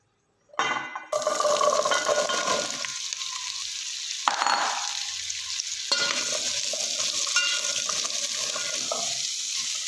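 Carrots sizzle and hiss in hot oil for gajar ka halwa, with a sudden burst as they hit the pan, then steady frying with occasional stirring scrapes.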